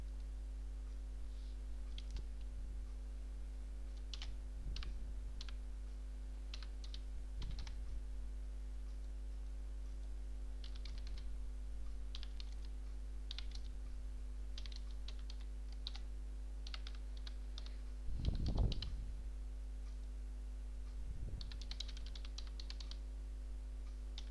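Keys on a computer keyboard clatter in scattered bursts of quiet taps while login, email and password fields are filled in, over a steady low electrical hum, with one louder clunk partway through.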